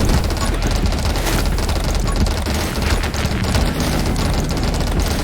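Dense, continuous rapid-fire bullet fan gunfire in the video game 20 Minutes Till Dawn, loud and unbroken throughout with layered shots and booms under game music.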